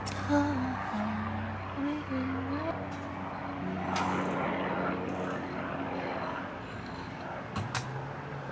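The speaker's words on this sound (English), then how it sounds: "there's a helicopter coming." A helicopter's steady engine drone passes overhead throughout, loud and continuous, while a person talks over it.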